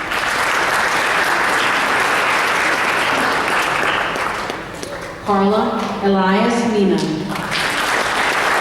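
Steady applause at a school board of education meeting honoring local heroes, a room full of people clapping continuously while a speaker's voice reads names over it.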